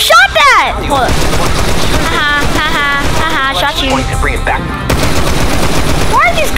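Rapid bursts of gunfire from GTA 5 crackle loudly in quick repeated volleys, mixed with game effects and excited voices talking throughout.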